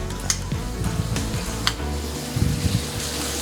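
Frozen chili and garlic dropped into hot frying oil, a close, bright sizzle and crackle running steadily, with a low hum underneath and a few soft stirring knocks near the end.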